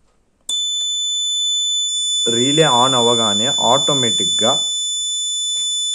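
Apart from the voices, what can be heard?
buzzer sounding on Arduino relay board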